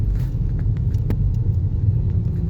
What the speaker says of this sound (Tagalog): Yun, daming traffic na